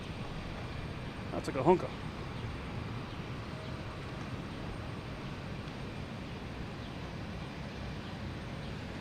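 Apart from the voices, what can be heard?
British Airways Boeing 787 arriving from London Heathrow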